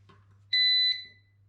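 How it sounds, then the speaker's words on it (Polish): A single short electronic beep sounds from an SL G10A alarm control panel when a water leak sensor triggers. The sharp, steady tone lasts under half a second in an otherwise quiet room with a low background hum. "Tak samo alarm zostanie wywołany na centralce."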